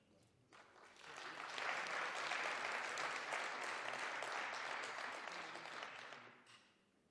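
Audience applause at the media launch of the 18th Munghana Lonene FM Xitsonga Music Awards, a dense crowd clapping that swells in after a quiet start, holds steady for several seconds, then fades out.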